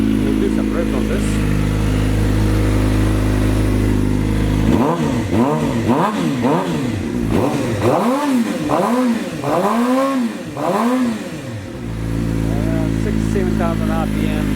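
A Kawasaki Ninja H2 motorcycle engine idles, then is revved hard to around 7,000 RPM in a run of rapid rising-and-falling blips, loud and close, before settling back to a steady idle.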